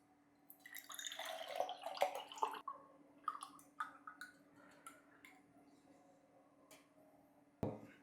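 Chilled homemade grape drink made from Arabian pulp grapes is poured into a glass, a soft trickling splash with small drips and clinks, quiet and close, ending in a sharp knock.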